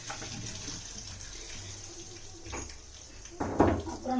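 Water runs steadily from a tap into a vessel in a home kitchen, a continuous low splashing wash that grows slightly louder near the end, with a brief clatter.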